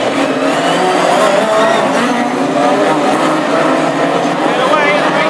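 Classic hot rod race cars at Lochgelly roar off the start of a Scottish Open heat, a dense continuous engine drone with revving under an excited commentator.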